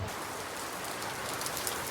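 Steady rain falls outside, a dense even hiss of drops that continues without pause and with no voices over it.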